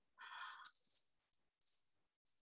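Faint cricket chirps come in a thin trill followed by a few sparse, tiny clicks spread through quiet stillness, soft and close.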